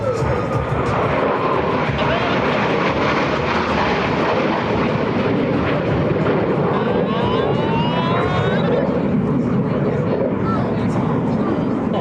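US Navy Blue Angels jets fly a double Farvel pass at an air show, a loud continuous roar of jet engines with wind buffeting that swells and sweeps past over twelve seconds.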